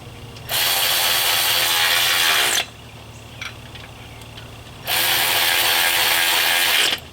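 Two sustained bursts of a tool, each about two seconds, separated by a quiet gap, as bolts go back into a Jeep Cherokee 4.0 water pump. The strip fits a ratchet or power driver running close up.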